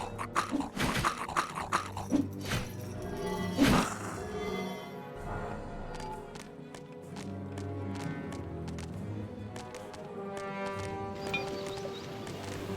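Unicorn in the Dungeons 2 video game, clattering hoof clip-clops and a neigh amid busy game sounds and music, moderately loud with a sharp burst near the start.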